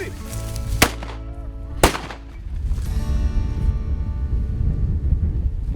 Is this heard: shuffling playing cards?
no